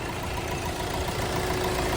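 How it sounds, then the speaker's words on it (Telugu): A Hyundai i20 Magna 2017/18 diesel engine idles in a steady, even low rumble with a faint hiss on top, continuous throughout and with no voices. "ఇంజన్ మాత్రం చాలా సైలెంట్ ఉంది"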